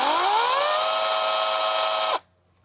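A Lynxx 40V cordless electric chainsaw whines as it spins up, rising in pitch to a steady high buzz within about two seconds, then cuts off abruptly into silence.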